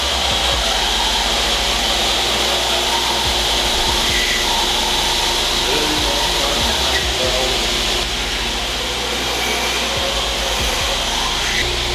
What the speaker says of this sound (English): I'm using a tiny Grizzly combo mill lathe for this.